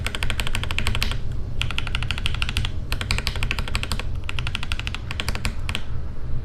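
Rapid keyboard typing on keycaps including a handmade WidowClicker artisan keycap, dense clacky keystrokes in several bursts separated by short pauses, close and steady, no talk.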